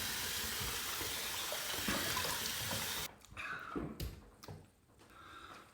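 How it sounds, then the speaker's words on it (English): Tap water runs steadily into a sink, then is cut off as water is scooped and splashed onto the face in several short, close, wet bursts before a shave. "So let me throw some water on the face"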